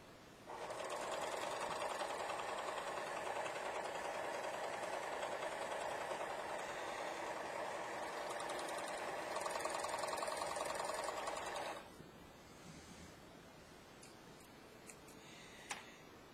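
A Finishing Touch 14SH654 serger runs a flatlock stitch in one long, steady whirring burst of about eleven seconds, close by, then stops, leaving a quiet room with faint handling noises.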